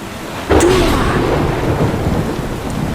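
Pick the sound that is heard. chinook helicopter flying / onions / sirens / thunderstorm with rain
thunderstorm with rain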